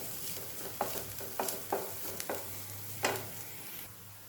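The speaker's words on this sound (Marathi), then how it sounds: "तर आता यामध्ये लसूण घालायचा आहे तोही चांगला असा परतून घ्यायचा आहे कांद्याबरोबर" Garlic and onion sauté in a pan, giving a soft continuous sizzle broken by several sharp spoon taps and scrapes against the metal.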